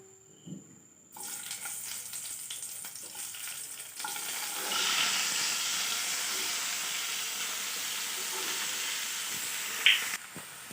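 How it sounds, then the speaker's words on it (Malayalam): Dried red chillies drop into hot oil and sizzle with a steady frying hiss that swells louder partway through, with a few sharp crackles over a quiet start. "2 വറ്റൽമുളകും കൂടെ ഇടുന്നുണ്ട് ഇതിൻ്റെ കൂടെ എണ്ണയിലോട്ട്."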